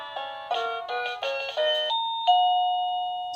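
A SmartDude SD003 plug-in wireless doorbell plays an electronic chime melody, a quick run of clear bell-like tones followed by two longer ringing notes that fade out, loud and close with no voices.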